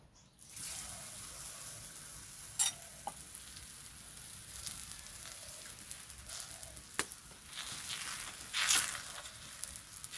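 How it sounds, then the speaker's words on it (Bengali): Steady hiss of a raw banana paratha frying in ghee on a hot griddle, with occasional scrapes and clinks of a utensil; no talking. "এখন আমি তাওয়াতে দিয়ে দেবো ঘি আমি ঘিয়ে ভাজবো"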